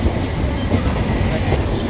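The Madhumati Express runs at speed in Bangladesh, a steady, loud rolling rumble of wheels and carriages heard from on board, with no breaks in the din.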